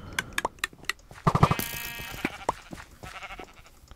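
Blocky game sheep in a Minecraft Mineplex match bleat in short, wavering calls amid scattered clicks and taps, one louder bleat in the middle, fairly close.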